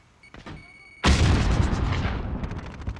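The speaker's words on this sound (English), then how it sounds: "Grenade out!" A grenade blows up in Call of Duty: Modern Warfare, a sudden loud boom after a short quiet stretch, followed by a long rumbling decay with faint shots in the background.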